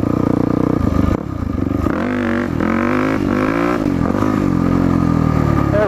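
A dirt bike engine revs hard during wheelie practice on sandy ground, loud and close, surging up and dropping back in repeated throttle bursts with some clatter, no talking.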